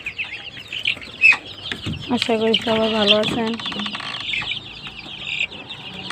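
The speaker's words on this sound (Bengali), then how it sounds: "আমার 25 দিন বয়সের দেশি মুরগির বাচ্চাগুলা, সবাই দোয়া করবেন এদের জন্য।" Twenty-five-day-old native chicks cluck and chirp nearby in short, repeated calls, while someone speaks over them.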